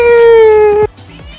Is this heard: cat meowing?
yes